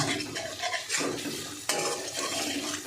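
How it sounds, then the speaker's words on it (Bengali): A spice paste of ginger, garlic and onion fries over medium heat in oil while a spoon stirs and scrapes the pan, giving a soft sizzle broken by sharper metallic scrapes. "আমি মিডিয়াম আঁচে দিয়ে মশলাটা কষাচ্ছি।"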